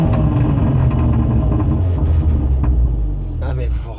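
Audi S1 tuned to 490 hp, its engine and exhaust giving a loud, continuous low rumble close by, steady for most of the stretch and easing slightly near the end.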